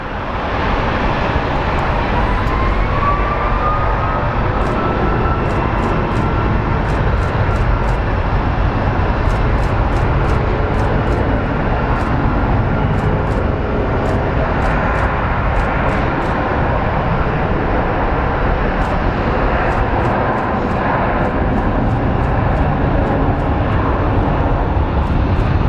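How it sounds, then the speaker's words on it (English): An American Airlines jet departs at Phoenix Sky Harbor airport, its engines a loud, sustained roar that holds steady throughout, with faint clicks over the top and no talk. "let's watch this American Air depart."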